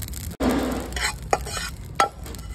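Whole coriander seeds with mustard and fenugreek seeds are dry-roasted and stirred in a pan for a garlic pickle spice mix, giving close, rustling scrapes and soft crackles with a few sharp clicks.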